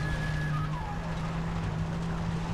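A car in the video game Far Cry 3 drives along with a steady, loud engine drone and road rumble, continuous throughout with no talk over it.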